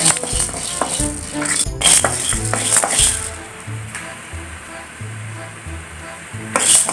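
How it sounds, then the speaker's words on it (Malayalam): Urad dal and toor dal sizzle and crackle steadily in hot oil in a home kitchen pan as they fry until brown for Onam sambar, with occasional stirring scrapes and clinks throughout. "ഒന്ന് വറുത്തെടുക്കാം ഉഴുന്നും പരിപ്പ് ഒരുവിധം ഒരു ബ്രൗൺ കളറായിട്ട്"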